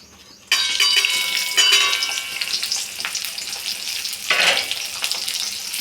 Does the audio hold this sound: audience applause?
no